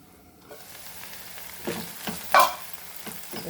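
Goan sausage, prawns and potatoes frying together in a covered pan, a low soft sizzle with a few louder bursts and clicks as the mixture shifts.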